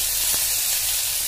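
Onion frying in a pan for Marathi-style tomato chutney, after cumin seeds have been roasted: a steady, even hiss and sizzle that stays close and constant throughout, with no talking.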